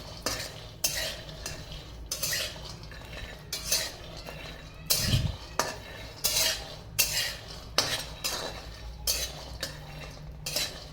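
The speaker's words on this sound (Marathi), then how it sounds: "लो फ्लेमवर छान मस्त खरपूस असे भाजून घ्यायचे शेंगदाणे" Peanuts dry-roasting in a pan over low flame, stirred steadily with a metal spoon, giving repeated rhythmic scrapes and clinks against the pan, close and clear, with one louder knock midway.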